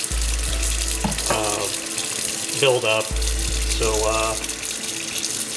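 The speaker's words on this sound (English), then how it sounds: "just been shaking this around and got hot water running through it right now" Hot tap water runs steadily through a Whirlpool DU915PWPTO dishwasher filter, a continuous close rushing and splashing with a person talking over it.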